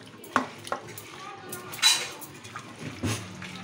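A grill chicken marinade is mixed by hand in a bowl, giving wet squelches, soft knocks and a few clinking scrapes against the dish. The sounds come in irregular bursts, close and moderately loud.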